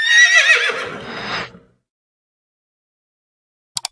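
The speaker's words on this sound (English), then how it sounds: "Horse." A horse whinnies loudly and alone for about a second and a half, a bright quavering neigh that fades into silence, followed near the end by two quick sharp clicks.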